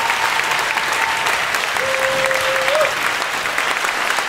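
A poetry slam audience in a club applauds a performer onto the stage, a loud, dense wash of clapping that continues evenly for the full length.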